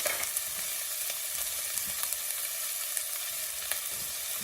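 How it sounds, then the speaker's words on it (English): Onions sautéed golden brown sizzle steadily in a pan, a quiet even hiss with scattered small pops and light stirring scrapes, no voices. "The onions are now sauteed to a golden brown color"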